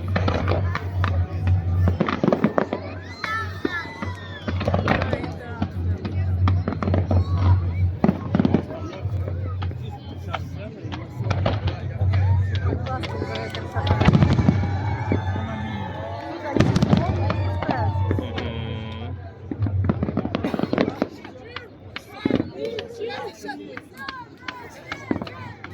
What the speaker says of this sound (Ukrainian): Ой, браво, салют!